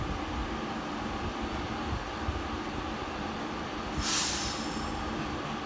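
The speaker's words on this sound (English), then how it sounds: "to depart here is 323215 with a West Midlands Railway service to Lichfield Trent Valley" West Midlands Railway Class 323 electric train departing Sutton Coldfield station for Lichfield Trent Valley, a steady rumble of rolling stock with a brief high squeal around the middle, heard from the platform.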